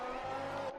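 An F1 race car in a racing video game spins around at the Hungarian GP, with a brief sustained engine whine and tire squeal, close and alone.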